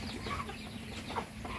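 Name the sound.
chickens clucking in a small backyard coop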